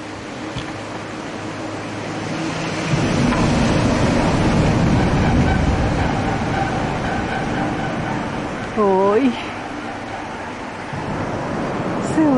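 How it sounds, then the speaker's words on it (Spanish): Cars cross a bridge above a stream, making a steady, roaring traffic rumble that swells partway through, and a person briefly exclaims. "Se oye bien feo el ruido del que dejan los carros en el puente."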